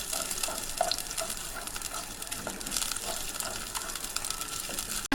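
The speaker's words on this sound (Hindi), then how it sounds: "यहाँ पर मैं प्याज का पेस्ट शामिल कर दूंगी। इसको मैं थोड़ा सा फ्राई करूंगी।" Onion paste fries in hot oil for a beef bhuna masala gosht, giving a steady, close crackling sizzle that carries on without a break and with no talking.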